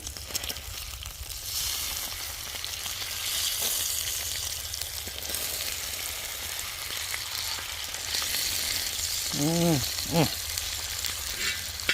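Ribeye steaks fry on an outdoor disc cooker with rosemary, a loud, continuous close sizzle throughout, with a brief voice near the end.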